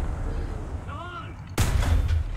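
A tank cannon in War Thunder's Swedish ground forces fires once, a sudden heavy boom that cuts through a steady engine rumble, its loud blast trailing into a booming decay.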